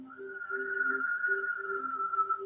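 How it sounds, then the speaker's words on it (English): A steady whistled exhale during a seated chair yoga breathing exercise, one sustained airy tone lasting the full stretch, close and fairly loud, with a faint lower hum beneath it and no talking. "You can do the whistle"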